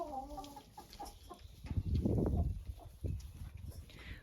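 Ameraucana hens dust-bathing in sand give soft, scattered clucks and low murmurs over a rustling, scratchy background, fairly quiet and close.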